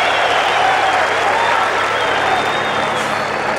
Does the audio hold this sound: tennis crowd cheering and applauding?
yes